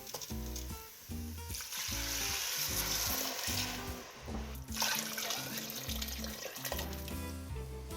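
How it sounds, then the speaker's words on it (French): Water poured onto browned rice in a hot pot for a Réunion Creole potato zembrocal, a bright hissing sizzle and splash over a bed of music, fairly faint overall. "Une fois que le riz est bien coloré, nous pouvons rajouter l'eau."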